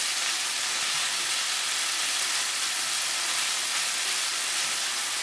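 Thin slices of beef fry in a pan for a Chinese spicy beef and tofu dish, giving a dense, even, unbroken hiss that stays loud and steady throughout, with no talking.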